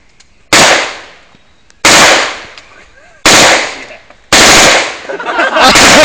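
Four long bursts from an automatic weapon fired at a target on a stag do, each a loud, close rattling volley lasting about a second, separated by short pauses, with faint voices between.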